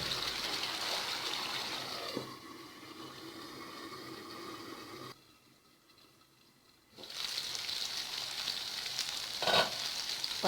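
Steady sizzling and bubbling of chicken gravy simmering in a pan, with a brief quieter pause midway before the frying hiss returns.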